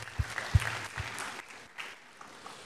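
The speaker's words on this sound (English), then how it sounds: "So a big round of applause for you guys." Applause in an auditorium at a graduate orientation, a few loud close claps at first, then scattered lighter clapping from the audience that thins out and fades.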